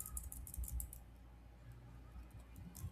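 A burst of clicky computer keyboard keystrokes at the start and again near the end, faint and close, with quieter pauses between and no talk.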